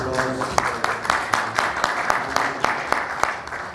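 An audience applauds at a meet-and-greet event with Pakistani singers Abrar ul Haq and Faakhir Mehmood, a steady wash of clapping with sharp individual claps standing out, mixed with voices in the room.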